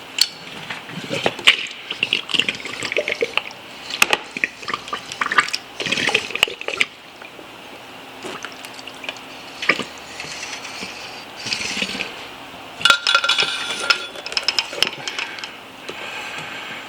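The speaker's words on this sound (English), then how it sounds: "So I drain the oil into the pan, the bulk of it." Motorcycle fork oil drains from a disassembled fork tube into a pan on a workbench, heard as an intermittent liquid trickle and splashing with clinks and mechanical handling noises, close and uneven.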